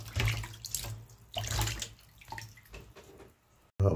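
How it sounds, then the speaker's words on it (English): Tap water runs into a sink as raw chicken is washed in vinegar water, gushing loudly in several bursts with brief pauses between, alone and close by. "So I'm going to add back the chicken to these and give it one more wash."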